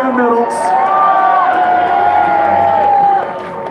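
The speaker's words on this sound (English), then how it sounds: "Let's have a big cheer for the Ox." A loud live-event crowd cheers and whoops for a strongman called the Ox, a sustained roar with shouts on top that fades near the end.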